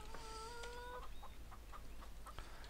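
Chickens in Farming Simulator 15 cluck in repeated short bursts, with a longer drawn-out call early on, over a steady low ambient hum.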